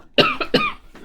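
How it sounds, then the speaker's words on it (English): A short fit of coughing: three or four dry, close-up coughs in quick succession, loud and near, with no talking. "I haven't coughed all day till I started doing this video"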